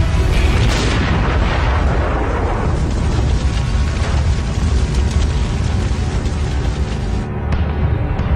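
A tank explodes during the Golan Heights battle, producing a loud, continuous roaring blast that rumbles on for about eight seconds before dropping away near the end.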